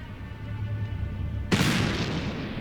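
A sudden loud bang in the Black Mirror III video game, going straight into a sustained, noisy rumble that fills the rest of the moment after a quieter low hum.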